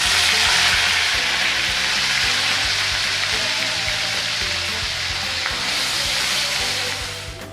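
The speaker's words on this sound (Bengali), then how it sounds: "কড়াইতে সর্ষের তেল গরম করে নিয়েছি। দিচ্ছি পেঁয়াজ বাটা" Onion paste frying in hot mustard oil in a wok gives a loud, steady sizzle that runs for several seconds with no talking, then eases off slightly near the end.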